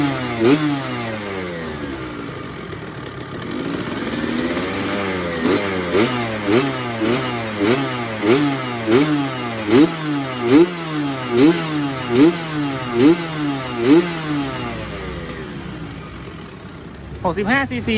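A 2017 KTM 65SX 65cc kids' motocross bike, a used Japanese-market two-stroke with a kick start and six-speed gearbox, revs repeatedly over a steady idle, building into a rhythmic series of sharp throttle blips before dropping back, recorded close up.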